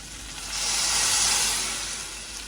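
A pot of green-bean curry with salt and turmeric simmers in milk on the stove, giving a steady steamy hiss that swells, peaks and gently fades, close-up and alone.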